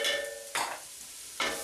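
Flour being stirred into vegetables in a soup pot, two short scraping strokes of a spoon over a faint low sizzle, close and fairly quiet.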